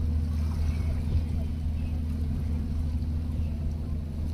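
A fast passenger ship cruising across the open sea, its engine giving a continuous deep, even drone with faint water wash and no talking.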